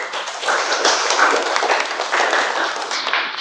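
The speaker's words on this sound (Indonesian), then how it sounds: "tepuk tangan dulu untuk si Abraham." A school class claps together in a steady, dense patter of applause lasting a few seconds, close and moderately loud, with a few sharper taps mixed in.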